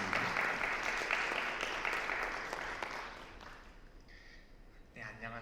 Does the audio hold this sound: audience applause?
yes